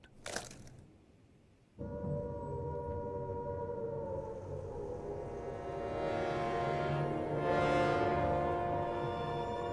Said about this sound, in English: the air raid sirens had sounded within minutes